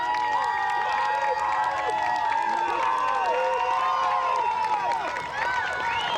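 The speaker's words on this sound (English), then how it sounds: "Special round of applause for these players out here." A crowd at a youth lacrosse league championship game cheers and claps for the players, a sustained wash of shouts and clapping that stays loud throughout, with children's voices and whistling cries rising above it.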